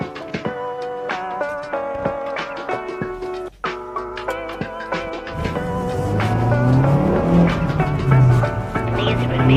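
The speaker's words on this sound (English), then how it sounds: "When you're behind the wheel of the Mazda Speed 3, it makes some noises that are kind of rumbly like a Subaru, but not quite the same." A turbocharged Mazda Speed 3 fitted with mud flaps is driving. After some tonal, music-like sounds, a steady engine rumble rises and grows louder through the second half, its pitch climbing and easing as the car accelerates.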